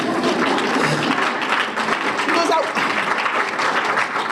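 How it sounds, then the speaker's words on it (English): An audience at a gardeners' gathering claps steadily in a dense, continuous wash of applause that holds at an even level throughout. "you can clap on me, it's okay"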